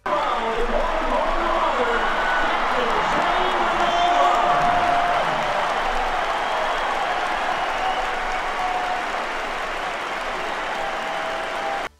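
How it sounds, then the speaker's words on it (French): A stadium crowd on a sports field applauds and cheers a soldier mother reunited with her daughter, a dense, loud, steady wash of clapping and whoops that holds for several seconds before cutting off abruptly. "t'as tout le monde qui applaudit dans le terrain, qui les félicite"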